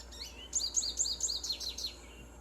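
American goldfinch calls from the Nancy Drew game Ghost Dogs of Moon Lake, a quick series of high, bouncy chirping notes in a lively run, clear and fairly close over a faint low hum.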